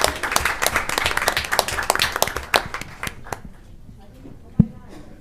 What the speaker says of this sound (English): Let's get another big round of applause for all the students who participated.